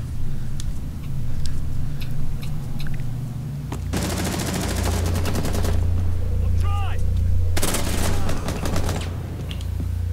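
Bursts of automatic gunfire in the tactical shooter Rainbow Six Siege, with dense rapid volleys in two long stretches, a sparser crackle of shots between them, and a voice speaking briefly over the fighting.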